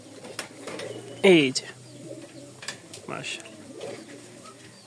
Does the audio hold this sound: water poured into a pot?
no